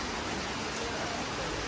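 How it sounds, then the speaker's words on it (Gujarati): Rain pouring down outside a shop, a dense, even hiss of falling water that stays constant throughout with no breaks. "આવી ગયો વરસાદ."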